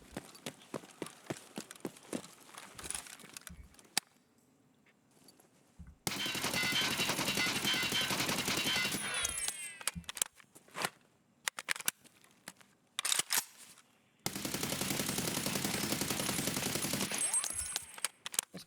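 A gun fired in a video game: two long stretches of steady, rapid automatic fire, each several seconds of dense continuous rattling, separated by quieter gaps with scattered clicks and thumps.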